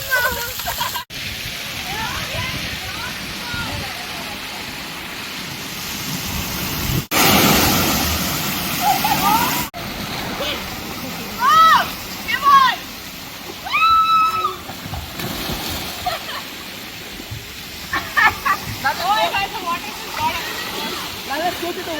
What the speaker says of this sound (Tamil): சும்மா அதுக்குள்ள ஸ்விம் பண்ணிட்டு தண்ணி பக்கெட்ல எல்லாம் நனைஞ்சிட்டு